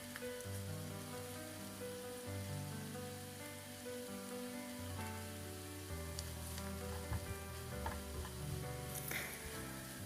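Dried eggplant stir-fried in a pan with sesame oil, a steady dense sizzle and crackle with faint stirring scrapes, close and continuous for the whole stretch, no voices.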